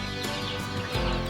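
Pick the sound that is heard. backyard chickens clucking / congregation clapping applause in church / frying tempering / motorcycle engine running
backyard chickens clucking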